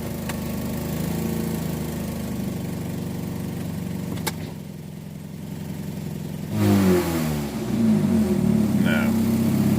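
A Chevy HHR with a failing transmission, its engine droning at a steady idle and then revving up louder near the end, close and alone without talk.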